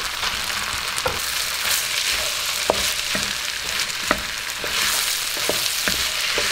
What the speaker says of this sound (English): And you want to make sure you're frying everything on high heat.